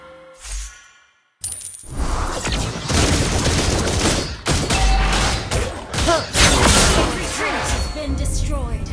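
Rapid bursts of gunfire from the hero Granger's skill in the mobile game Mobile Legends, loud booming shots mixed with game effects and a spoken character voice line.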